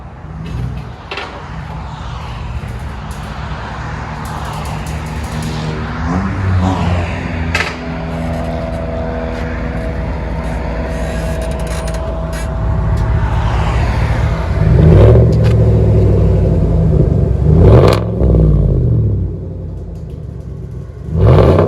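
A Chevy Silverado pickup with a 5.3L V8 and aftermarket exhaust backing out, a loud close engine rumble that holds steady, then swells with throttle blips and revving toward the end, no talk over it.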